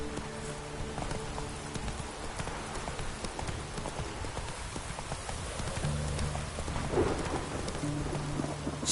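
Roach the horse galloping in The Witcher 3: Wild Hunt, rapid hoofbeats pounding steadily through rain with thunder rumbling, moderately close and continuous throughout.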